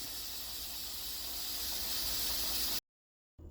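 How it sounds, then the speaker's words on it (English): Steam hisses steadily and loudly from a pressure cooker's valve after cooking beans, a broad continuous rush that cuts off abruptly and then briefly resumes. "After 45 minutes, turn the fire off and let all the steam go out."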